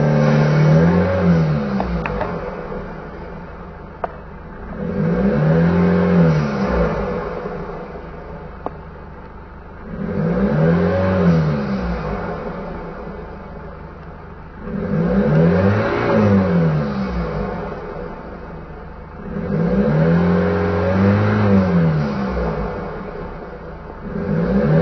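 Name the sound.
Hyundai H1 van engine revving to 2500 rpm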